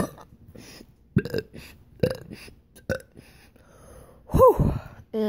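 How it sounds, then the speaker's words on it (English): A man belches several times in a row: short, deep burps spaced about a second apart, building to one long, loud drawn-out burp near the end, followed by a breathy exhale. "People think it's pretty impressive that people could burp like that"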